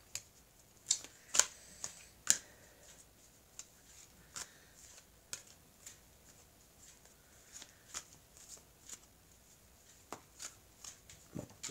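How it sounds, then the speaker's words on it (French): Soft, quiet shuffling of tarot cards by hand, a series of irregular light flicks and riffles with brief pauses, close and alone without talk. "je vais bien mélanger les cartes."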